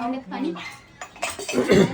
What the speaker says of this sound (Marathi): भांडी घासते सकाळ सकाळी